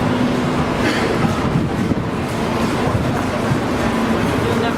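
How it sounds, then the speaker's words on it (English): A carnival ride train rolls along at night with a steady, loud rattling and rumbling throughout, wheels clattering continuously. "This is the last stop on the train."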